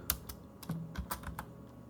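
Computer keyboard keys clatter in a quick, irregular burst of close, crisp clicks as code is typed, quiet and with no talking.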